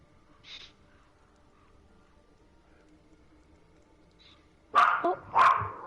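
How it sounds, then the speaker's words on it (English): Dogs at home bark in two loud, close bursts near the end, after a quieter stretch with a faint distant yip and low background hum. "Yeah, the dogs are all on edge."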